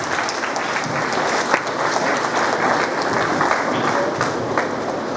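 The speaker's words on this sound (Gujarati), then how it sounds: "એમના માટે પણ એક જોરદાર તાળી થઈ જાય." An audience at a Guru Purnima gathering claps for an honoured guest: dense, sustained applause fills the whole stretch at an even level, with a faint murmur of the crowd beneath.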